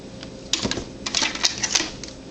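A die cut machine presses a decorative label-shaped die through cardstock for a tissue box cover, giving a run of close mechanical clicks and clacks with rattling bursts spread across a couple of seconds.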